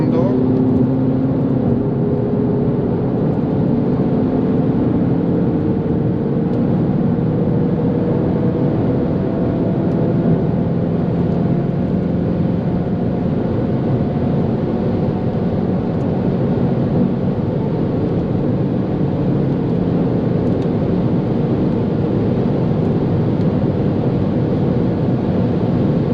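A 2021 Audi TT 45 pulls hard on a German Autobahn, its engine and rushing wind merging into a dense, sustained roar that stays steady and loud throughout.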